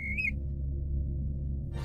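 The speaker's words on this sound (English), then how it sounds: "You hear the call of a plover." A plover's bird call in the video game Colossal Cave: a brief high whistling squawk at the start over a steady low game hum, then quiet background with a hiss at the end.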